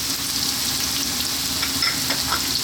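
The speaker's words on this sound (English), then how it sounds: "Then what we're going to do is drop in our onion. Our garlic ginger paste" Onion and a half-and-half garlic ginger paste frying over high heat in a pan for chicken curry, giving a continuous loud hissing sizzle with light crackles and no talk.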